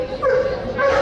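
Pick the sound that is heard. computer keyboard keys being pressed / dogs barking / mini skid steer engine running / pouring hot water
dogs barking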